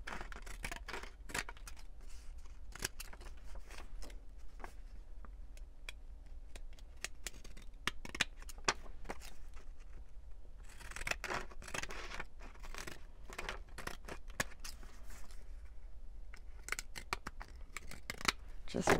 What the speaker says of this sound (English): We'll cut it with the decalage scissors,